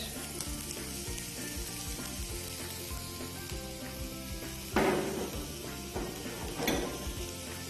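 Green and red capsicum sizzle in a hot pan, a steady close frying hiss with utensil knocks and two louder stirring scrapes partway through.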